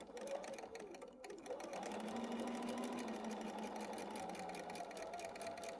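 A sewing machine stitches quilt pieces together in a quilting room, its steady whirring motor running continuously and fairly close after a brief stop-start at the beginning.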